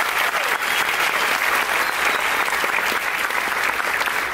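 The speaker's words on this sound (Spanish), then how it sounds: "Un fuerte aplauso, por favor," An audience at a success-story event claps steadily in a dense, even wash of applause that holds at full strength throughout, close and loud with no pauses.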